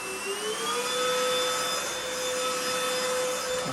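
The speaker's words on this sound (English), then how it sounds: "and this is the turbo." Lidl stick vacuum cleaner running on turbo mode, a loud, steady high-pitched motor whine with airy rushing noise that rises slightly in pitch at the start and holds without a break.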